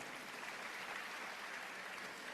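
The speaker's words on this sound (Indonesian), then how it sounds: "Berikan tepuk tangan yang meriah." A church congregation applauds during a sermon, a steady, even roar of many hands clapping together, heard at a moderate distance without talk.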